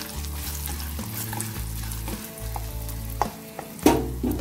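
Shallots and dried red chilies fry in hot oil, a close, busy sizzle with a crackle that runs throughout. Light stirring clicks sound over it, and a brief louder clatter comes near the end.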